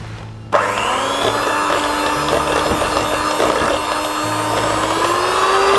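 An electric mixer starts up and whips spiku cake batter, a loud continuous motor whine with rattling and scraping in the bowl that holds steady throughout.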